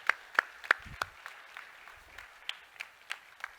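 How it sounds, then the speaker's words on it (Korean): A small church congregation claps in slow, scattered, sparse beats, each clap sharp and distinct with gaps between, faint and roomy rather than a full ovation. "박수하겠습니다."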